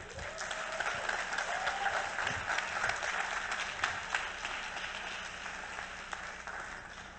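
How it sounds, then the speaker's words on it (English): An audience at a talk breaks into applause, a steady wash of many hands clapping that holds and slowly eases off, with no voices over it. "Give yourselves a round of applause."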